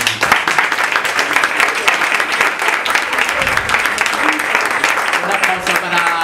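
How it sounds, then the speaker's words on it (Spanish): Applause from the audience at a storytelling event, a dense, sustained burst of clapping that fills the space while a voice speaks over it. "Quiero pedir un fuerte aplauso para todos mis compañeros."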